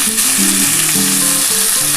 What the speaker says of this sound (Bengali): গোটা মৌরি, ক্যাপসিকাম, কাঁচা লঙ্কা, টমেটো, পেঁয়াজ সবটাই একসাথে আগে ভেজে নিচ্ছি